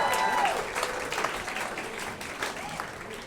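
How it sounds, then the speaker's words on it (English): A comedy contest audience claps and cheers steadily for an introduced comedian, a dense wash of applause with a few whoops, close and lively throughout. "Please put your hands together for Roger Stafford."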